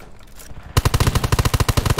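Gunfire in the video game Undawn starts as a loud, rapid automatic burst after a quiet moment, with evenly spaced shots continuing close and sharp to the end.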